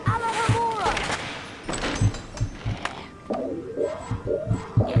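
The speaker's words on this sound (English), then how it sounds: "You see that bark that's exploding apparently just randomly like that?" Bursts of Wiggentree bark exploding in the Harry Potter and the Chamber of Secrets PC game: sharp popping thumps scattered irregularly over about five seconds, mixed with game effects and rising, whistling tones.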